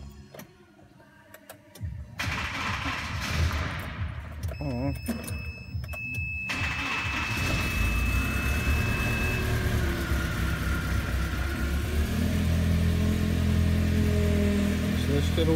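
Car engine cranking, catching and settling into a steady idle after a water pump pulley repair, the pulley having cracked and torn the belts; a whine rises as it fires, with a person speaking briefly nearby.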